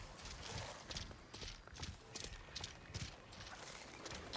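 Rhythmic clip-clop footfalls of a mechanical horse mount galloping over rocky terrain in the game Horizon Forbidden West, steady and close with a faint whir of mechanisms beneath.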